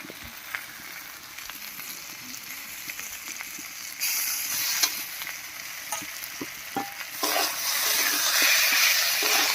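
Potatoes and eggplant fry in a pan as ground red chilli, coriander and cumin pastes are stirred in, a steady sizzle with scraping strokes that grows louder and brighter partway through.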